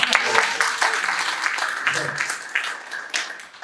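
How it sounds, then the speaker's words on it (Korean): Applause from an audience at a Busan city party members' meeting, a dense patter of clapping that holds steady for a few seconds, with a voice talking over it. "박수 한번 주시죠"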